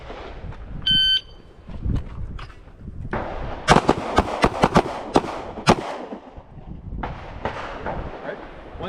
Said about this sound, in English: Shooters, at your own pace, 2 shots on target.